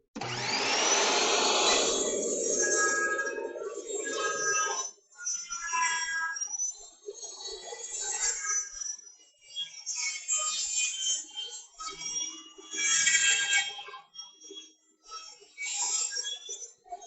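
A table saw bevel-cutting wood with its blade tilted, the motor whining loudly at first, then a steady run broken by surging bursts and brief dips as the workpiece feeds through, near and alone without talk.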